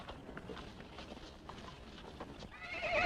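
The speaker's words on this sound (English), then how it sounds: "Quiet those horses." Horses whinny and hooves clip-clop at a dramatic siege of a house in a western-style TV episode, with several neighs and scattered hoofbeats building to a loud, sustained whinny at the end.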